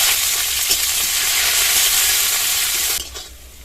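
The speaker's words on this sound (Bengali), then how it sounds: "এবার এর মধ্যে পেঁয়াজ কুচি দিয়ে দেবো।" Chopped onion fries loudly in hot mustard oil with whole cumin and dried red chilli, a steady close-up sizzle with faint stirring. It eases off sharply near the end, and no one speaks.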